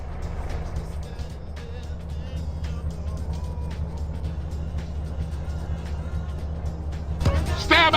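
Car driving in GTA San Andreas, a steady low engine drone with road rumble holding throughout, small clicks and knocks on top, and a brief burst of voices near the end.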